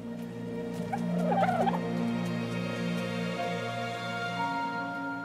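Ichthyornis birds in the video game Ark: The Island, a flock giving warbling, gobbling calls over a steady tonal ambient hum, loudest in a brief burst early on, with no talking.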